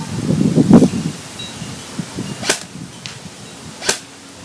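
A rustle, then two sharp snapping shots from a Classic Army SCAR-L Sportline airsoft rifle, fired singly a second or so apart outdoors, with a faint click between them.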